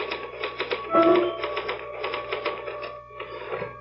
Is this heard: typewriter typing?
yes